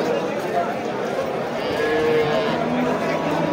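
A cow moos at a busy cattle market in Piskent, Tashkent region, short calls rising over a steady murmur of people talking and milling about nearby.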